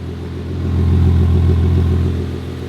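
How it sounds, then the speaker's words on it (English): BMW E9X 328 engine running steadily, a deep continuous hum that swells slightly as the revs rise, loud and close with no talk over it. "You giving it some revs?"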